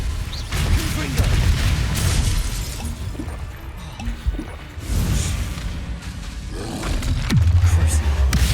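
A Confringo fire spell blasts in Hogwarts Legacy combat, with several loud booming, shattering impacts and roaring bursts amid ongoing battle noise, with a deep rumbling hit near the end.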